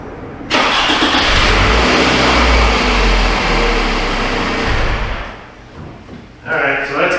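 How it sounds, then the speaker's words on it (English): A Toyota Camry engine cranks and catches, then runs loud and steady at high revs for several seconds before dropping back, with a brief rev near the end. "the car will start without an issue here"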